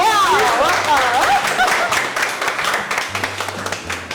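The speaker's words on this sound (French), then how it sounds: "Bon, applaudissements" Audience applause on a French evening broadcast, a dense, loud wash of many hands clapping at once, with voices calling and speaking over it near the start.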